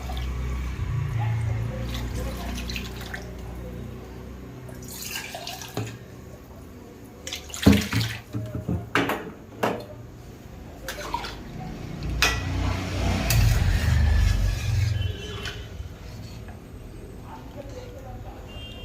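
Water poured into a pan of simmering mung dal being cooked with fish head, a steady liquid wash running under low kitchen background, with brief clatters and splashes midway.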